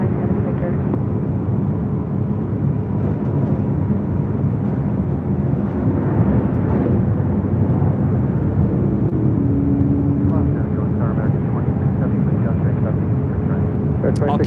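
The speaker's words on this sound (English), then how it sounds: "That was Flight 224 heading to Tokyo Narita, taking off there on the south side and 7 left." Airliner bound for Tokyo Narita taking off from runway 7 left on the south side of LAX, a steady broad jet roar heard from a distance throughout, with faint radio chatter and voices underneath.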